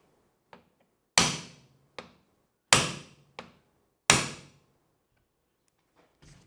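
A hammer strikes a punch to stake a castle nut: three loud, ringing metallic blows spaced about a second and a half apart, each followed by a lighter tap, close and crisp with no talking.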